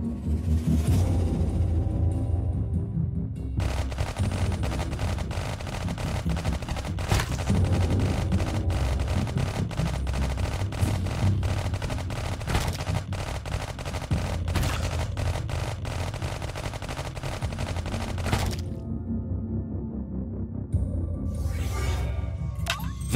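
Sustained rapid gunfire in the Iron Marines strategy game, dense rattling bursts layered with booming impacts for nearly twenty seconds, followed by brief separate volleys near the end.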